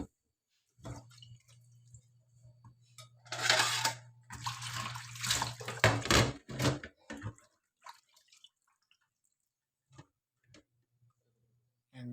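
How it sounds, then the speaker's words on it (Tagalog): Kangkong (water spinach) is washed by hand in water, with irregular splashes, drips and sloshing in a bursty cluster, then sparse drops and quiet gaps. "So, isa na po nating inuhugasan mga gulay natin. Yan po yung kangkong."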